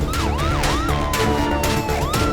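A loud, close ambulance siren wails in rising and falling sweeps, with another siren tone layered over a rumbling engine.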